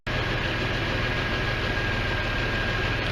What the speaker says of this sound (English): There's the exhaust, nice and smooth.